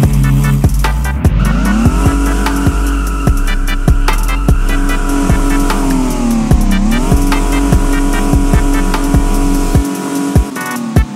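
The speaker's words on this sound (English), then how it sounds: "The last car we got in this update is this 7mm Porsche." A Porsche driven in the Roblox game Vehicle Legends, its engine loudly revving up through repeated gear shifts with sharp rhythmic cuts, the pitch climbing, dipping and climbing again before easing off at the end; no talking.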